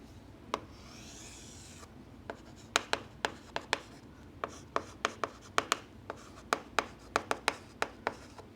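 Chalk or marker strokes on a board while writing notes, a long run of sharp, irregular taps and scrapes, close and fairly loud, with no talking.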